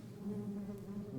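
Bees buzz in a steady, low drone at close range, a tabletop game sound effect playing alone for a brief moment with no voices over it.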